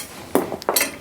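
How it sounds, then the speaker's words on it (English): A metal bolt dropped during work on a Trek 950 ATB mountain bike strikes a hard surface, giving two or three quick bright clinks in under a second, close and clear with no talking. "Oh, dropped a bolt."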